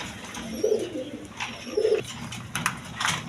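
Red Jacobin and Maltese pigeons give two soft, low coos close by over a faint background murmur.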